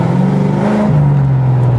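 A Ford Mustang engine drones loudly with traction control off, a steady close growl that drops slightly in pitch partway through, with no voices.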